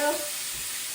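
Faux bacon sizzling in a frying pan, a steady close crackling hiss that runs alone without pause.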